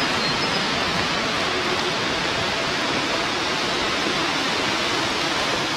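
Steady rain falls along a canal path outside Leipzig, a dense even hiss that holds without break for several seconds, close and fairly loud, with no voices.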